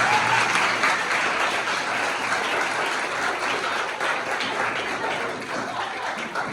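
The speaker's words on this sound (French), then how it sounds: "Je vais vous applaudir." Dense, sustained applause from an assembled audience, loud and continuous throughout and easing slightly near the end, with no one talking over it.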